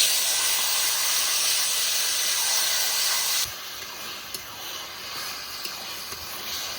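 Hot oil fries taro leaves (kochu shak) with slit green chillies, coriander and black cumin, giving a loud, steady sizzling hiss that drops suddenly to a softer, crackling simmer partway through.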